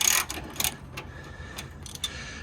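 Quick metallic clicks of a ratchet with a 14mm socket working an anti-roll bar bolt on a Honda Civic Type R FN2, a short irregular run of sharp ticks up close.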